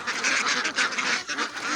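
Young laying ducks in Kalasin, Thailand, quack in a dense, continuous chorus, many birds calling at once close by.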